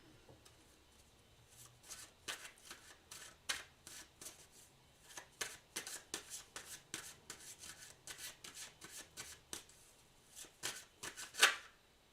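A deck of cards is shuffled by hand in a series of quick, soft riffling bursts, close and fairly quiet, with a sharper flurry near the end and no voices.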